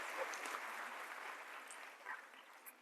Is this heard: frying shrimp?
no